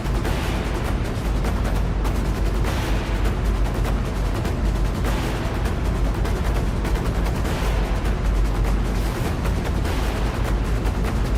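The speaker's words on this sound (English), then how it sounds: "Did they fly the drone through the explosion?" Explosion captured from a drone flying through the blast, heard as a continuous dense roar of crackling, popping bursts and heavy low rumble, loud and unbroken for the whole stretch with no voices.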